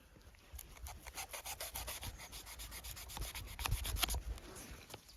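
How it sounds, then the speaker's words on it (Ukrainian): A Ganzo G729 folding knife, styled after a Spyderco, saws through a thick rope with steady, close scraping and rubbing strokes that grow louder toward the end, with no talking. "І тепер складний тест, ріжу цей канат."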